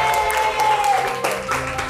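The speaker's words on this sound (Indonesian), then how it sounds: "tepuk tangan untuk kita semua." Brief applause from a primary school class in Surabaya after a lesson on power plants, a short burst of clapping mixed with some voices.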